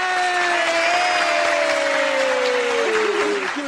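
Audience applause, dense and loud clapping throughout, with a sustained tonal whistle or tone sliding down beneath it.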